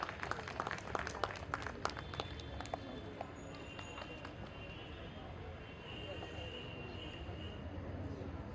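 Audience applause at the Kolkata Literary Carnival 2025 as Mr. Shahanshah Mirza is felicitated, a fairly quiet, dense patter of many clapping hands, busier at the start and then settling into a steady wash.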